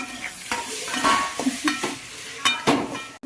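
Onion and tomato sautéing in a pan, a close, steady sizzle broken by repeated scraping stirs at irregular intervals, with no talking.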